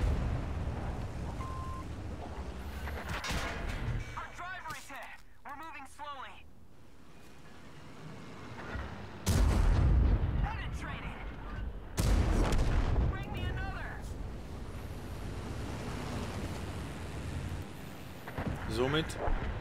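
Tank cannon shots in World of Tanks, heavy booming blasts at intervals with a louder pair of shots near the middle, mixed with in-game battle noise while someone talks over it.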